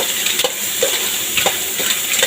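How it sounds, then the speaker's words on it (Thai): Large surf clams being stir-fried in a pan, a continuous sizzle broken by repeated scraping and clattering strokes of the spatula at a brisk, uneven rhythm. "ผัดให้หอมนะทุกคน ดูหอยลายนี่ พอดีได้ได้หอยตัวใหญ่ๆมานะทุกคนหอยลายตัวใหญ่มากมาก ผัดเลย"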